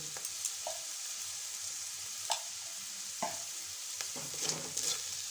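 Turmeric and cumin powder being stirred into a kakrol filling in a pan: soft, continuous sizzling with several distinct spoon scrapes and knocks at irregular intervals, fairly quiet and close, with no talking.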